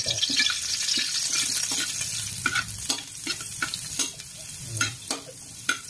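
Butter sizzling in a hot pan while cooking spicy goat adobo, a steady hiss punctuated by sharp, irregular clicks and scrapes of a utensil stirring against the pan, close and fairly loud.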